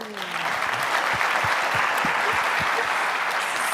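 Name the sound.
audience applauding a speaker on stage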